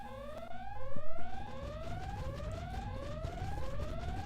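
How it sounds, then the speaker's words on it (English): A repeating alarm in the Super Smash Bros. Brawl video game, with rising electronic siren sweeps that recur steadily over a low game-music backdrop, moderately loud with no talking. "Apparently we set off an alarm somehow."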